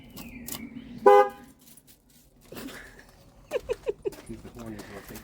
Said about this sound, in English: The horn is working.